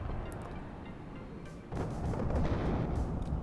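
Bombs dropped by an SU-24M bomber in the real-time strategy game WARNO, a low rolling rumble that jumps into a louder, heavier burst of explosions midway and keeps booming to the end.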